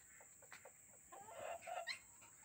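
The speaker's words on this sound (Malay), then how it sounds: "Dan di bawah tu reban ayam" Chickens in a coop cluck and squawk in quick overlapping calls, rising to a louder cluster near the end, with steady background noise and no voices.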